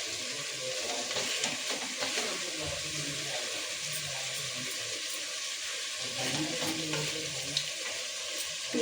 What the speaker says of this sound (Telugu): మంచిగా చికెన్ వేగిపోవాలి, ఆయిల్ తేలినంత వరకు చికెన్ వేగాలి